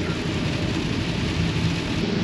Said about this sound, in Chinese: 这雨还越下越大了。